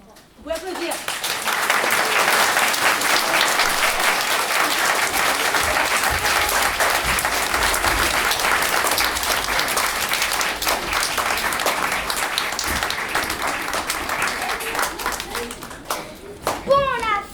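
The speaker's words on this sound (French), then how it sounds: "Vous pouvez applaudir." Sustained applause from the audience at a primary school end-of-year show, loud and steady for around fifteen seconds with children's voices and cheers mixed in, fading toward the end.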